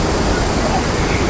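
Kempty Falls in Mussoorie pours down as a steady, close roar of falling water, with no break from start to end.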